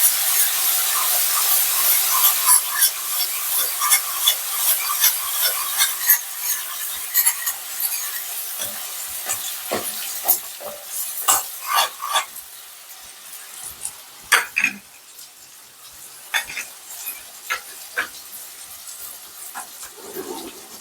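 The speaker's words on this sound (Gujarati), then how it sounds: "તો હવે આપણે આ જે પેસ્ટ તૈયાર કરી હતી તે નાખી દઈશું બરાબર મિક્સ કરી લઈશું" A utensil scrapes and stirs through thick paste in a pan, with sizzling underneath and intermittent louder clinks and scrapes, while cooking a Kathiyawadi gram-flour and drumstick curry.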